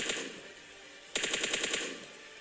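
Gunfire in the mobile battle-royale game PUBG Mobile Lite: after a quiet stretch, one rapid automatic burst of about seven evenly spaced shots rattles out, moderately faint, with no one talking.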